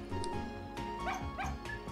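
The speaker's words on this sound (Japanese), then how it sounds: "ワンワン。" Small cartoonish dog in the video game Opoona giving a few quick yipping barks, close and fairly clear over a soft game music background with chiming tones.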